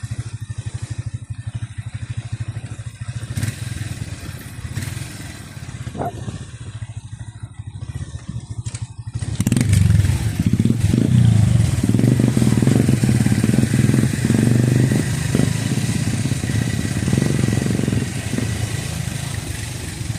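Motorcycle riding along a rural farm road, its engine buzzing steadily near the listener, growing louder and rougher partway through as the ride continues, with wind and road clatter mixed in.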